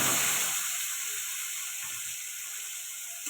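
Onions frying in oil with panch phoron, bay leaf and green chillies for a Bengali okra, potato and rohu fish curry, giving a steady, close broadband sizzle and hiss that fades slightly over a few seconds, with no talking.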